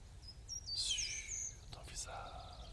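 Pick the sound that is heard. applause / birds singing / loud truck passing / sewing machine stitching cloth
birds singing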